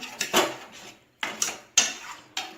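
A spoon scrapes and clinks against a cooking pot while food is stirred, four or five short distinct knocks in an uneven rhythm, close and fairly quiet with no talk.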